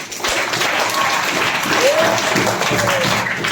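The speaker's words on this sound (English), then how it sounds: "Big round of applause both these teams." Steady, dense applause from a crowd for two teams at a school quiz competition, loud and continuous throughout with no break.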